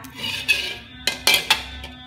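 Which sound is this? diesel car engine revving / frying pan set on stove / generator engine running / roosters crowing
frying pan set on stove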